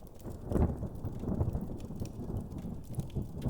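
A rainstorm with low rumbling thunder and steady rain noise, heavy and continuous, with swells of deep rumble throughout and no voices.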